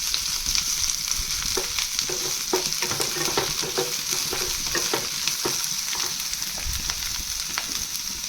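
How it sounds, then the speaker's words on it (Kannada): Onions fry in a pan, a steady bright sizzle running throughout while a spoon stirs and scrapes at an irregular pace, close up and with no voices. "ಈಗ ಈರುಳ್ಳಿ ಸೇರಿಸ್ಕೊಳ್ಳೋಣ. ಇದನ್ನು ಕೂಡ ಸ್ವಲ್ಪ ಫ್ರೈ ಮಾಡ್ಕೊಳ್ಳೋಣ."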